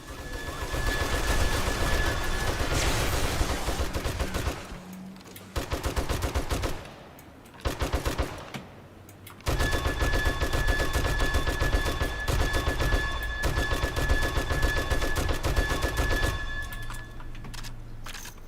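An automatic turret in 7 Days to Die fires long rapid bursts of bullets, loud continuous machine-gun rattle broken by a few short pauses before resuming.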